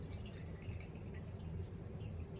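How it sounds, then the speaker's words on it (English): Excess melted candle wax poured over in a home kitchen, a soft steady liquid trickle with faint drips, quiet and close. "So I just do like this and pour the excessive"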